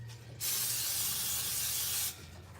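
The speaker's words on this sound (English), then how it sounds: "I'm going to put Pam spray because I got a ratchet pan" A steady hiss of Pam aerosol cooking spray into a pan, one continuous burst of about two seconds against a quiet low hum, with no talking.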